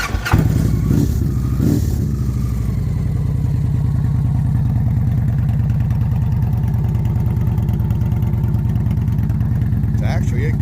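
A Victory Cross Country touring motorcycle with a 106 engine rumbles steadily and loudly on a ride, a deep even throb that holds throughout after a brief rev at the start.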